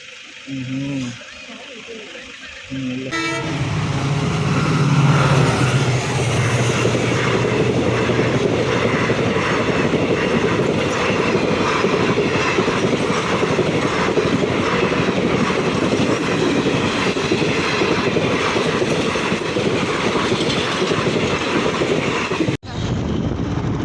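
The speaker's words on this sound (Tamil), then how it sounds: "நாங்கள் வெயிட் பண்ணுறோம் ட்ரெயினுக்காக." A train rolls past close by near the Pamban bridge, its steady rumble and rhythmic clatter of wheels on rails filling the scene for about twenty seconds, with some voices underneath.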